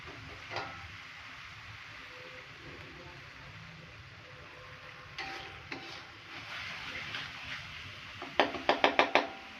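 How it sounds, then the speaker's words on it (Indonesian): Sambal sizzles in a pan over low heat as a spoon stirs it, a soft steady frying hiss with scattered scrapes and a quick run of sharp taps against the pan near the end. "ini kita aduk-aduk supaya gak gosong ya"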